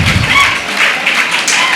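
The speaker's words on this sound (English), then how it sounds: "Please stand and give a big round of applause to each and every delegate here." Applause for delegates at an educational institution's meeting, a brief dense patter of many hands clapping in a hall, fairly loud and steady.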